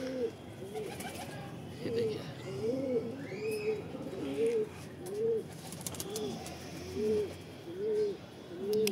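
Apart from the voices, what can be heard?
pigeons cooing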